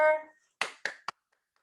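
Applause in a team meeting comes through as just three crisp, close handclaps in quick succession, then quiet.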